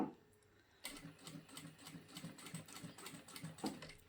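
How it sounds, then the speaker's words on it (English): A Jack A4E industrial sewing machine stitches at slow speed, a quiet, regular rapid patter of needle strokes that starts after a brief pause and continues steadily. "Start sewing, and you can see that was a lot slower"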